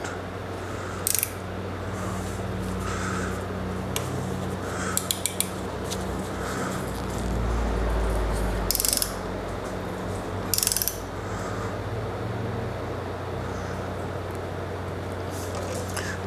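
A ratcheting tool clicks in quick bursts while a mirror mount clamp is tightened on a 2022 Harley-Davidson Road Glide ST handlebar, with sharp metallic clacks and handling noises between the runs.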